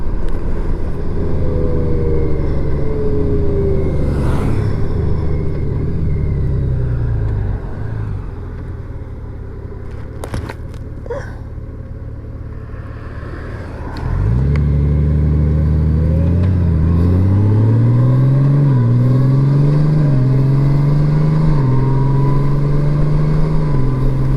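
A motorcycle engine drones steadily while riding, easing off midway and then revving up through several rising gear shifts, loud and close.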